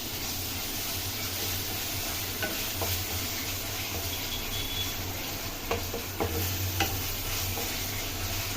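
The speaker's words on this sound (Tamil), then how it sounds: "ஆட் பண்ணிட்டு நம்ம வந்து லைட்டாக வந்து அதை கிண்டி விடணும்." Ginger garlic paste frying in a pan, stirred lightly while cooking mushroom gravy; a steady, even sizzle runs throughout, broken by a few soft scraping strokes of the spoon, with no voices.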